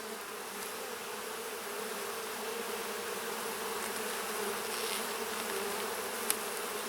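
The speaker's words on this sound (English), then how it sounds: "A lot of bees here." Honey bees buzz around an open hive during a beekeeping inspection, a dense continuous hum close by and steady throughout.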